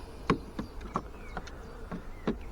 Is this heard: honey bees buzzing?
yes